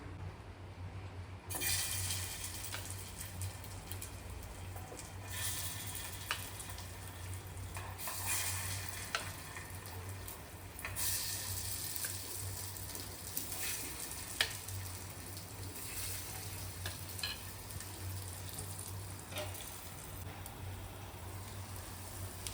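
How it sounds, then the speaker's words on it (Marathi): Poha kachoris shallow-fry in a pan, giving a steady, quiet sizzle and bubbling of oil. Faint stirring or turning sounds surface now and then, and nobody speaks. "त्या आपण आता पापाच्या भांड्यामध्ये 5 ते 6 मिनिटांसाठी शॅलो फ्राय करून घ्यायचे आहेत"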